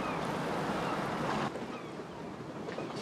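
A boat moving on open water, with steady broadband wind and rushing water noise that drops slightly partway through; no voices.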